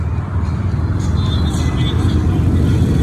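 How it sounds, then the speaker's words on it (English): Steady roar of cars and other vehicles on a busy highway during a holiday weekend, loud and continuous from start to finish with passing swells, and faint voices mixed in. "Sorry for the traffic."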